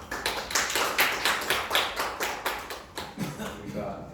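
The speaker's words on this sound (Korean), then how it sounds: "조명수 상무님을 박수로 맞으시기 바랍니다" Seminar audience at a corporate project briefing clapping to welcome a Deloitte speaker, a modest, fairly faint group of hands beating in a clear, regular rhythm of about three claps per second.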